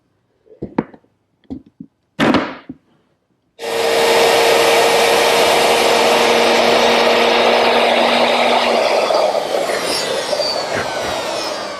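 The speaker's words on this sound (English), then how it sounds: "A round nose bit makes the recess for the hinge knuckle." A few sharp knocks, then a power router with a round nose bit whines up and cuts steadily into wood, a loud sustained high-pitched drone.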